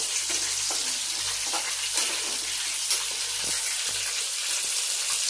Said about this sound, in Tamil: அடிக்கடி கிண்டி விட்டுக்கோங்க.